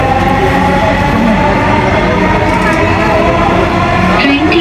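Dhaka metro rail train running at night, a steady loud rumble and hum of the moving carriage with faint rail rattle throughout.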